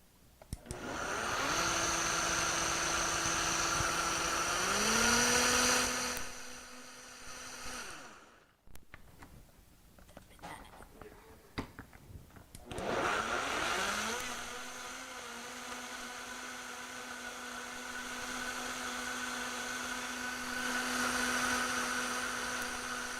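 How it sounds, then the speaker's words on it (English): A kitchen blender whirs loudly, blending vegetarian ingredients with pancakes. It revs up twice in long steady runs broken by a brief quiet pause with some rattling. No voice is heard. "So I'm just going to blend all of this up."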